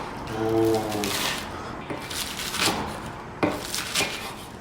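A knife slices green onion diagonally on a cutting board, giving a few soft, close taps and scrapes. People talk over the cutting the whole time.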